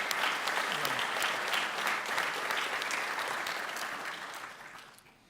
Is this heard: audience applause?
yes